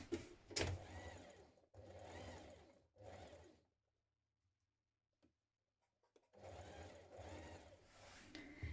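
A sewing machine stitches a dress sleeve in place with a one-centimetre seam, in a few short, close runs of the motor, a quiet pause, then another stretch of steady stitching.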